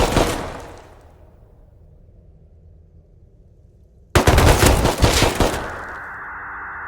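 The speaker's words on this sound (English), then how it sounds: "I'm taking bullets from every direction, like I've somehow volunteered to be target practice." Rust video game gunfire from several directions: a dense burst of loud automatic shots at the start, a quiet stretch, then a second heavy volley of rapid fire that fades into a steady ringing hum.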